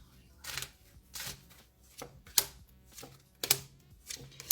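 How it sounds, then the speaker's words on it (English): Tarot cards are shuffled in a series of sharp, crisp riffling bursts, about six of them at irregular intervals, close and moderately loud with quiet gaps between. "Let me shuffle again."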